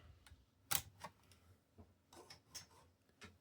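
A hard drive is slid and clicked back into an IBM ThinkPad 390e laptop, a faint series of scattered plastic clicks, taps and small knocks with one sharper snap near the start, close by and with no talking.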